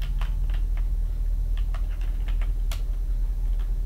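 A computer keyboard clicks in quick irregular bursts of keystrokes over a low steady hum, close and fairly loud, with short pauses between runs of typing.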